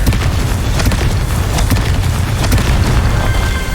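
Confringo spell explosions in the Hogwarts Legacy video game, a loud, continuous rumbling boom with splintering, crackling debris and sharp bursts scattered throughout.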